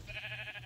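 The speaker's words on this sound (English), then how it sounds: "We got a sheep." A sheep bleats in the Minecraft video game, a single short wavering bleat, fairly quiet and alone over a faint steady background hum.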